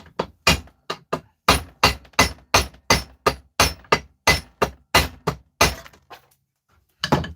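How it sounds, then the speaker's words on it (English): Axe blows striking a hard object to chip pieces off, about eighteen sharp, loud, evenly spaced impacts with a brief pause near the end, then one more hit. "Just hit it here with an axe."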